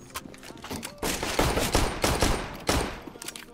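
A Glock fires in a video game as a rapid string of loud, close shots, bursts crowding together over a few seconds while voices react in the background.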